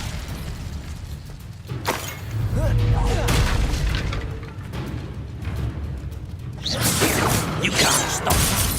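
An Incendio fire spell in Hogwarts Legacy goes off as a series of whooshing blasts and booming bursts, with a second burst of crackling impacts later, over continuous combat noise and voices.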